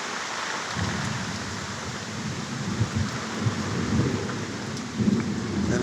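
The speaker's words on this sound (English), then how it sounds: "it won't stop thundering. This is crazy." A thunderstorm with heavy rain drums steadily, with low rumbles of thunder rolling underneath and a few sharper cracks, continuous and close.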